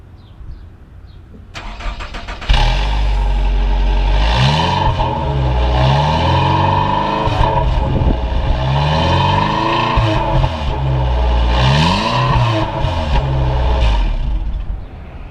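A camper's engine cranks briefly, catches with a roar, then runs steadily at a rough idle with some revving, loud and close.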